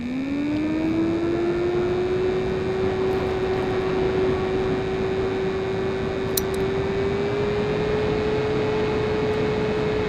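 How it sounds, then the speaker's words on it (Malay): Amgras phone cooler fan spinning in its P1 mode, a steady close whir with a rising then constant tonal hum over broadband airy noise, running alone without voices. "Kau boleh dengar dekat P1 ni kipas dia tak berapa bising."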